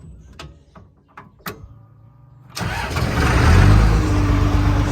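An old tractor engine is cranked after a few clicks and mechanical knocks, then catches and roars into a loud, steady low rumble that builds and holds close by.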